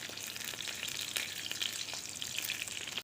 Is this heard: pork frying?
yes